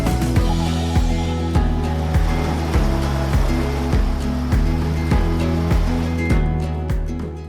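Ocean surf at Siargao in the Philippines rolls in with loud, steady roar and a rhythmic pulse of breaking waves about every half second to second, close and continuous with no voices.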